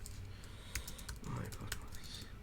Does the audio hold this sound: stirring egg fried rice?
no